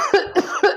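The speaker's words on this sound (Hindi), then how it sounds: "सॉरी, मेरे को बहुत खांसी है" Three quick, harsh coughs in a row, close and fairly loud, each short burst separated by brief pauses, with no speech alongside.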